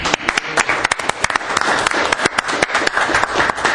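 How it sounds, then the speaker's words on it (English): Sustained applause with many overlapping hand claps at a community services commission special meeting, congratulating an honored department employee, steady and fairly loud throughout. "if we could give her a congratulatory, clap here."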